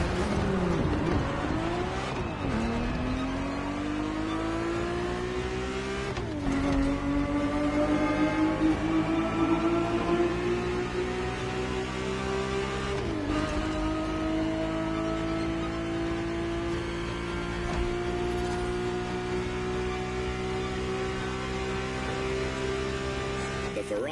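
A Ferrari 365 GTB4 engine in the racing game The Crew Motorfest revs steadily through several gears, each shift dropping the pitch before it climbs again in a smooth, continuous drone, with a narrator talking over it.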